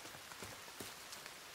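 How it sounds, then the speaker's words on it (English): Rain patters steadily on surfaces in the survival video game The Forest, a soft even hiss of drops with faint scattered taps, quiet and continuous with no talking. "Oh, it's raining again."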